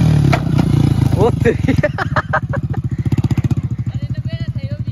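Hero Splendor motorcycle engine idling and puttering with a steady low rhythmic thump that grows clearer as it settles, close by, after a brief clatter and a man's exclamations at the start.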